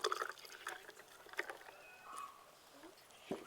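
Naruneendi milk sarbath is poured into a glass holding a couple of ice cubes, with faint intermittent trickling, drips and small clinks, quiet and close with no talking.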